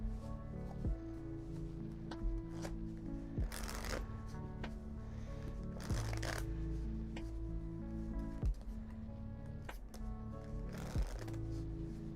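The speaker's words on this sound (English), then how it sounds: "Somebody throws the pack down, starts washing the cards." A deck of playing cards being shuffled by hand, a series of quick riffles and soft slides repeating every couple of seconds under a low steady hum, close and clear.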